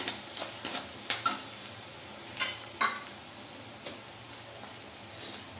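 Onions for kanda poha sizzling in a pan with a soft, steady fry under scattered, crisp spatula taps and scrapes against the pan, close and unhurried.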